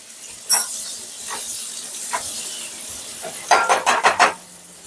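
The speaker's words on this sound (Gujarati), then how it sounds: "વઘાર કરવા માટે મેં આ બટર લઈ લીધું છે તેને બરાબર મેલ્ટ થવા દઈશું" Soft hissing sizzle of butter melting in a pan with a few sharp clinks and scrapes of a utensil, growing busier toward the end.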